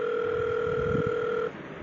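A steady two-tone telephone dial tone sounds loud and clear for about a second and a half while a call is placed to an electricity substation, then cuts off.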